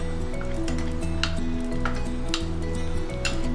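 Raisins frying in oil in a pan while making pongal give a soft steady sizzle with faint clinks, heard close over a constant low background hum.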